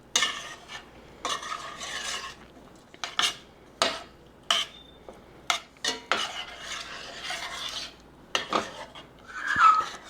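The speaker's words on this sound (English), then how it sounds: "we're going to have to stir it constantly until all of this stuff melts" A spoon stirs marshmallows and Jello mix in a pot over low heat, giving repeated scraping and clinking strokes against the pot in uneven bursts, close and fairly clear, with no talking.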